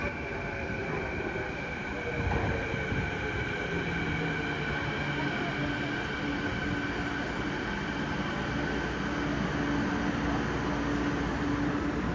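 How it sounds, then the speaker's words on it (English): A Canada Line airport train to YVR pulls into a Vancouver station platform. Its steady rail hum and wheel drone carry on throughout with rising tonal whines, at a moderate distance. "The next train to arrive on the outbound platform is for YVR Airport."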